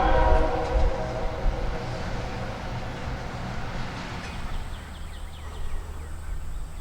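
A northbound juice freight train rounds a curve at Baldwin, Florida, its rumbling rolling and rail noise loud at first, then easing to a steady, more distant drone.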